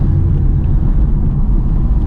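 Low, steady exhaust rumble from a 2001 Trans Am V8 fitted with spiral mufflers, heard from inside the car while cruising, with a constant droning tone and no talk.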